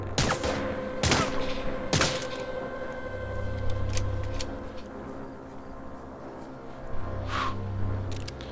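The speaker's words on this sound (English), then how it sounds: "I heard gunfire there" Gunfire in the video game Get Even: a few sharp loud shots crack at irregular intervals early on, then scattered distant bursts over a low mechanical hum and ambient game noise.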